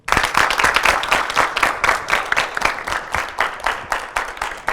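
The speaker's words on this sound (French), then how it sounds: "Sous vos applaudissements, s'il vous plaît." Steady applause from an audience, many hands clapping densely and continuously at a fairly loud level, with no voices standing out.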